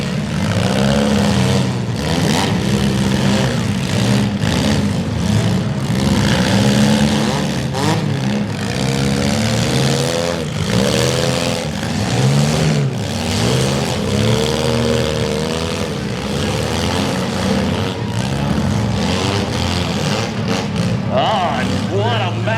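Youth compact cars in a county fair demolition derby revving hard and crashing into one another as they back up and spin, a loud continuous engine roar with crowd noise and an announcer talking over it throughout.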